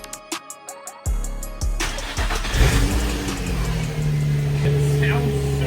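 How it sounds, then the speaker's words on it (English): A rebuilt Nissan 350Z, recovered abandoned and just refilled with coolant, cranks with rapid starter clicks, catches and revs, then settles into a steady loud idle close by. "So now we're gonna crank it up and let it run."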